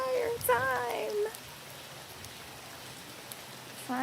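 Rain falls steadily on a tropical island resort in Panama, a faint, even hiss that continues throughout, with a person's voice speaking briefly at the start and again at the end.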